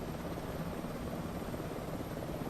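A helicopter in Microsoft Flight Simulator 2024 over the crater floor of Mt Fuji, a steady, even rotor and engine drone that stays constant throughout with no voices.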